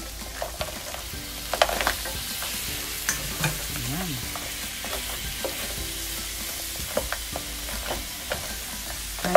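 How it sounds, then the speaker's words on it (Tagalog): Crabs frying in garlic butter in a pan, a steady sizzle throughout with scattered stirring scrapes and clinks, close and even, with no talking. "pwede na natin ilagay itong ating crab."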